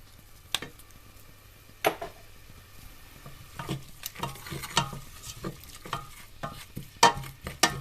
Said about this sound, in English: We're gonna fry this, stir fry for a bit